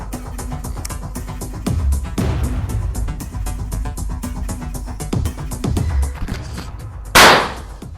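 Rapid crackling bursts of firecrackers going off in quick succession, ending with one loud, sharp blast; no voices.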